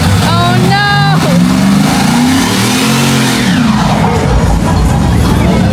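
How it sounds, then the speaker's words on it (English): A truck engine revs loudly and close while the truck backs up, its note rising and falling in a sustained throaty roar, with people talking over it. "he's gonna go back it up"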